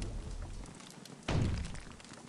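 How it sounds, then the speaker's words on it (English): A bust smashed in the video game Psychonauts lands as one sudden heavy thud with a short rumbling crash, standing out loud against quiet game ambience. "I destroyed the bust of him."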